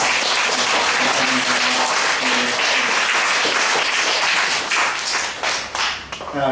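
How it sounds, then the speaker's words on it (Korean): A Korean church congregation gives a warm round of applause for an elderly woman, loud, sustained clapping from many people that thins and fades unevenly toward the end. "이정분 어머니 더 건강하시라고 뜨거운 박수 한번 하시겠습니다."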